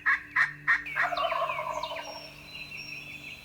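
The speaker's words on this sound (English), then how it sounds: "This bird was firing off on the limb. I mean, every other breath was a gobble." A wild turkey gobbler in Tennessee bursts into three rapid gobbles, then a longer rattling gobble, loud and close from a roost limb in a field, fading into quiet outdoor background.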